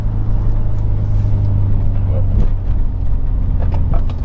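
Subaru STI engine with a Tomei exhaust, heard from inside the car as a loud, steady low drone with slight shifts in pitch and no talking.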